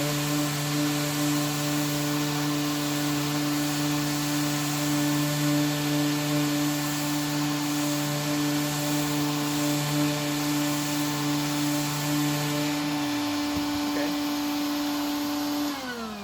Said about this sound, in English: I've got it hooked up to my vac. And let's go ahead and do a little sanding.